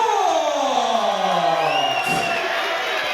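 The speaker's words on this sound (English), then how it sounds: "Well, a rapturous applause" A crowd at a darts match in England roars with loud, sustained cheering and whooping that fills the hall and fades slightly toward the end.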